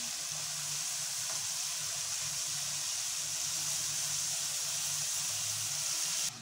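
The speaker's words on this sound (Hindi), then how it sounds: "अब मैं इसके अंदर मेथी ऐड कर रही हूँ।" Fenugreek leaves stirred into potatoes frying in masala: a steady, close sizzle with hissing steam, loud and continuous until it cuts off at the end.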